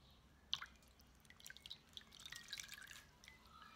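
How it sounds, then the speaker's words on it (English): Wool felt squeezed in hot water: soft, close drips and wet squishing, with a sharper splash early on, then gentle trickling and dripping. "I'm just going to squeeze it so I can make sure that the hot water goes all the way through it"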